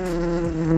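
Mandaguari stingless bees buzzing at their hive box, a steady close droning hum with a high insect whine, no talk.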